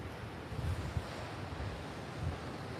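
Ocean waves wash and drag back along the coast in a steady roar, close by, with heavy wind buffeting the microphone throughout.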